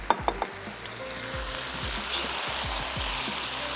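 Eggplant pieces for chicken biryani fry in a pan with a steady sizzle, broken at the start by a few sharp clinks and stirring knocks near the mic, with occasional low thumps underneath.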